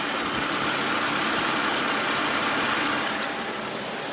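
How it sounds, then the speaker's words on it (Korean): Inline-six car engine idling with the hood open, a steady, smooth close-up hum with no stumbles, easing slightly quieter near the end. "엔진 소음 먼저 들려드리면은"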